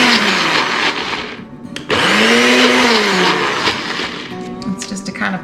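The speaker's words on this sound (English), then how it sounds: "going to run this through our little blender just for a second or two" A small blender chops garlic in one brief continuous run, a loud motor whine that rises and bends in pitch, then stops, followed by quieter clatter.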